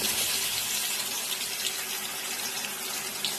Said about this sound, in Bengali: এবার আমি ওই তেলেই একটু জিরা ফোড়ন দেব